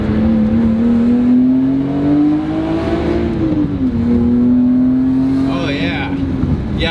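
A BMW E46 M3 engine revs with a loud, rising and falling droning tone, its pitch bending through a gear change as it runs, and a voice comes in briefly near the end.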